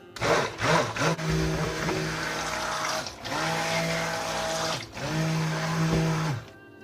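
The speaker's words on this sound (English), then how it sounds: "I'll burp the blender a little bit and just pulse it" A blender mixing lye solution for lavender soap whirs in three pulses separated by brief pauses, its motor loud and close, whining steadily during each run.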